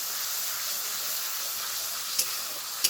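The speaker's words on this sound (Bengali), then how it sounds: "থেকে খুব ভালোভাবে কষাবো যতক্ষণ না অবধি তেল ছাড়ছে।" A spice paste with yogurt sautéing in oil for an eggplant curry, giving a steady close sizzle and hiss with two small pops near the end.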